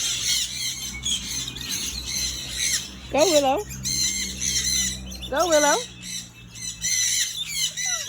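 A parrot at a bird park squawks loudly twice in harsh, rising calls, close by, while a person speaks encouragingly to a child in between and around the calls.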